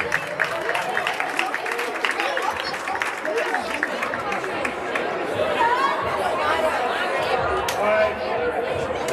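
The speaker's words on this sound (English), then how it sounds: "please join me in a big round of applause" An audience at a winter sports award ceremony claps in a steady patter, mixed with lively crowd chatter throughout.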